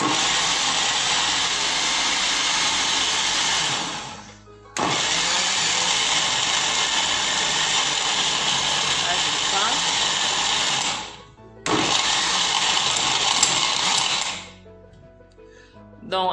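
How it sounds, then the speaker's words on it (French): A blender loud and close by grinds a marinade with sliced ingredients for Cameroonian braised chicken, running in three long bursts on an ice-crush setting with brief pauses between them. "c'est dans le mixeur, je vais fermer et je vais mixer"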